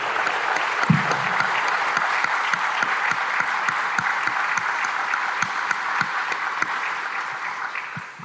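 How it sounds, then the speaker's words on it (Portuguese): Audience at a council plenary assembly in Bauru gives a steady round of applause, a dense continuous wash of many hands with a few louder individual claps standing out, sustained throughout before ending abruptly. "E eu gostaria de dar uma salva de palmas para todos eles."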